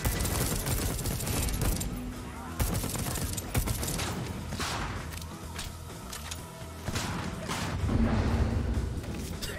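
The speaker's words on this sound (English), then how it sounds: "It's just full of explosions." Dense rapid gunfire and booming explosions in the video game Deathloop crackle continuously at close range, with bursts overlapping throughout.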